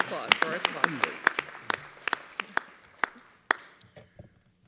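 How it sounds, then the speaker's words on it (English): A small audience at an awards ceremony in Silicon Valley claps for the sponsors. Sparse, crisp claps come in a loose rhythm and fade out by the end, with voices heard briefly at the start. "a round of applause for our sponsors"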